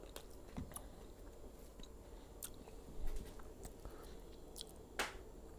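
Crunchy air-fried food from a Cosori air fryer being bitten and chewed close up, with a few sharp crisp crunches standing out over soft chewing and faint background noise.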